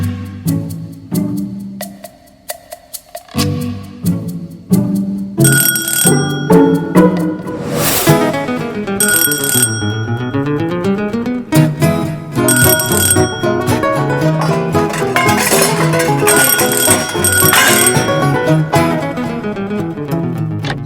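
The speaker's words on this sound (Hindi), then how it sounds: "हम लोग घंटी पे घंटियां बजाई जा रहे हैं" A bell rings over and over in insistent bursts, bright, loud and close, as someone keeps pressing it at a door, with stretches of repeated chiming filling the whole span and no talking.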